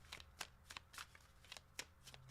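Tarot cards shuffled by hand close up, a quiet run of crisp riffling snaps and flicks in an irregular rhythm, with no talk.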